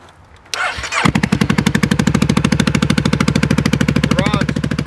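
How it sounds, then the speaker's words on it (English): A wrecked motorcycle with 3,600 miles and a bad front exhaust leak cranks briefly, then catches and runs with a loud, rapid, evenly pulsing idle, close by. "let's see if this thing cranks on"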